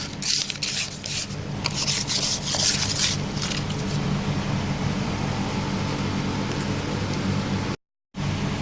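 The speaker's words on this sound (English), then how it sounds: "after you have sanded, you can see the surface looks kind of clean" Sandpaper rubbing over a steel wheel rim during restoration, a continuous close rasping scrub with stronger bursty strokes early that settles into an even grinding hiss, then a brief cutoff near the end.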